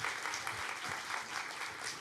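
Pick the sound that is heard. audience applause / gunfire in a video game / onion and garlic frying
audience applause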